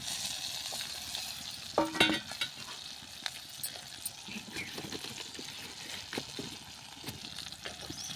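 Garlic fries in a pan for besan thecha, giving a soft continuous sizzle with occasional stirring scrapes and clinks, a louder burst of crackling near the start, and no voices.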